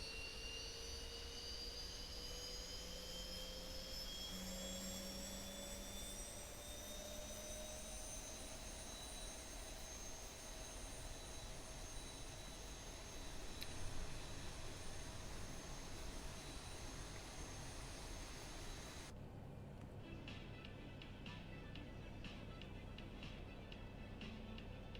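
A Boeing 737 jet engine spooling up in the X-Plane 11 flight simulator, a steady roaring hum with a whine that rises in pitch over about twenty seconds, no talk.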